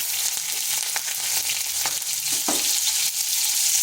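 Whole cumin seeds and green chilies sizzle loudly in hot oil, a steady bright hiss broken by a few sharp crackles and pops, close and alone with no voices.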